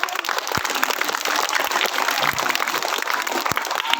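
Schoolchildren clap together to welcome a guest at a water-bottle distribution event for students, a dense, steady patter of many hands that carries on throughout at moderate loudness.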